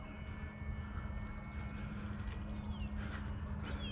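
An FMS Ranger 1800mm radio-controlled airplane flies overhead as its electric motor is throttled up, a steady droning whine heard from a distance, fairly faint and continuous, with light breezy background noise.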